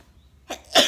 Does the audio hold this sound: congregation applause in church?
no